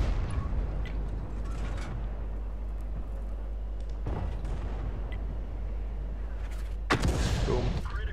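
An M40/M43 self-propelled gun fires in the game World of Tanks Frontline, heavy booming blasts over a constant low engine rumble, the loudest shot arriving near the end.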